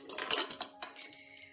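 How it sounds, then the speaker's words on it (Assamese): A pressure cooker lid is closed over corn pulao cooking on a gas stove, giving a few close metallic clinks and scrapes followed by a short rattle. "কুকাৰৰ ঢাকন বন্ধ কৰি দিম"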